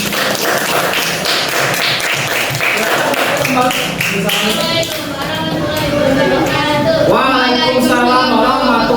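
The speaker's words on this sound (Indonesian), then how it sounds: "kita beri tepuk tangan untuk kelompok 3" A class of students applauds a presenting group during a school lesson, with loud, dense clapping that carries on throughout and overlaps with chatter and voices.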